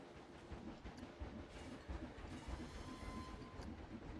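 Trains run on tracks in the theme park game Planet Coaster in a Wild West setting, a continuous rolling rumble with rhythmic clickety-clack of wheels over rail joints, fairly close and alone.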